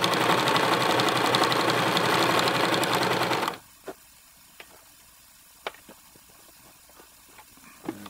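A Janome HD 1000 sewing machine stitches through thick layers of denim and home decor fabric in a fast, steady mechanical chatter, then stops abruptly, leaving a few faint clicks and handling sounds.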